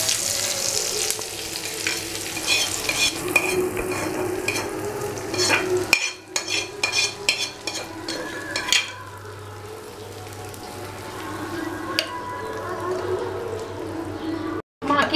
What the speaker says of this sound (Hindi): और अब तड़का दाल में डाल देंगे।